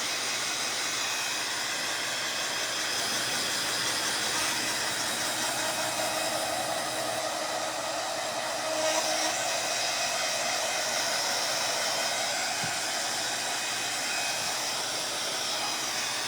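A hair dryer blows steadily on a reverse stencil pumpkin, a close, continuous whooshing hiss that holds at even loudness with no pauses.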